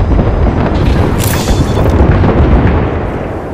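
Airstrike explosions in Apex Legends: a loud, continuous deep rumble of blasts with a brief crackling burst partway through, and no voices.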